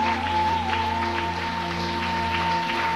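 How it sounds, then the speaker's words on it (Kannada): Church congregation clapping during a Sunday worship service, a steady, dense patter of applause from many hands over a sustained organ-like keyboard drone. "ನೀವು ತಟ್ಟುವ ಚಪ್ಪಾಳೆ ಪಕ್ಕದ ನಿದ್ದೆ ಮಾಡೋರನ್ನ ಎದ್ದೇಳ್ಬೇಕು"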